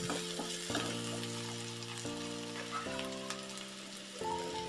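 Spices fry and sizzle in a pan while being stirred for Mandya-style upsaaru, a soft continuous crackle with scraping stir strokes close up and no talk.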